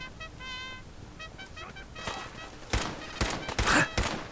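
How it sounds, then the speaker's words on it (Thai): Gunfire in the Fallout 4 video game comes as a burst of several sharp, loud shots near the end, after a stretch of electronic tones and beeps, with no talking. "ยิงก็ไม่โดนนะปืนปืนแม่งห่วยมากเลยปืนนี้"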